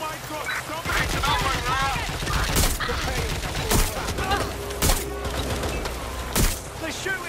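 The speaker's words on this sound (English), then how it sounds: "They're shooting at us!" Repeated gunshots ring out in bursts, sharp loud cracks spaced a second or so apart amid a chaotic scene with shouting voices and commotion underneath.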